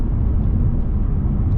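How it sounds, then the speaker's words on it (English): A tuned Infiniti Q60 with a JB4 downshifting loudly, a deep, heavy engine roar filling the low end for a brief continuous burst, close and with no voices. "Y'all heard that downshift? That shit was loud as shit."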